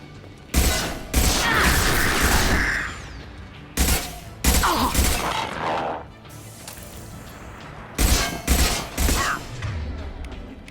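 Loud, close bursts of gunfire from the video game Mass Effect 2, fired in three separate clusters with short pauses between them and sharp crackling impacts.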